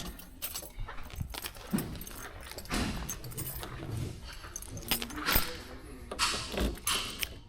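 Car keys jangle and clink in irregular bursts near a 1970 Oldsmobile Cutlass before its trunk is opened, close and crisp with small mechanical knocks between the rattles.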